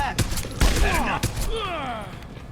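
Gunfire in Deus Ex: Human Revolution, several sharp shots at irregular intervals mixed with fast-sweeping tonal game sounds, close and fairly loud.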